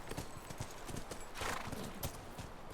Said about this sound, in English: What good horses? They're just chilling there waiting.